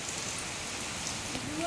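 Steady rainfall pours down as a dense, even hiss on surfaces around the listener, close and continuous throughout the short stretch with no break.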